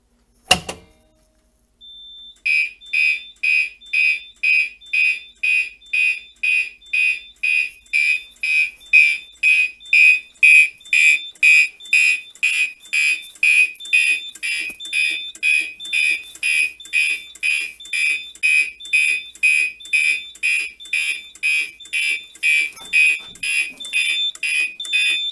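Gentex fire alarm appliances on a Simplex 4010 panel sound after a sharp click, then a long, steady run of rapid, evenly pulsed high-pitched horn tones repeating loudly and close for over twenty seconds.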